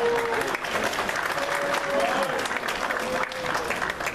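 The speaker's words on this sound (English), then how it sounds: "So let's give him a separate round of applause." Audience at an evening candidates night meeting giving a round of applause, dense continuous clapping with faint voices mixed in.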